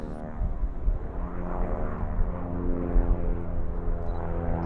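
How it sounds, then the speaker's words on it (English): A T6 propeller aircraft flying an aerobatic routine at high altitude at the Duxford airshow, a continuous droning engine note that rises and falls slightly as it manoeuvres, moderately loud with no voices. "The T6 in comparison performed a simultaneous aerobatic routine, but at a much higher altitude"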